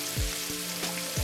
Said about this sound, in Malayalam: എണ്ണ ചൂടാ നല്ലോണം ചൂടായ ശേഷമാണ് ചിക്കൻ ഇട്ട് കൊടുത്ത് ഓരോ പീസസ്.